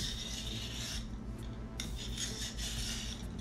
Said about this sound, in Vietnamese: Củ này thì bây giờ mình để mình bào ra nha cả nhà.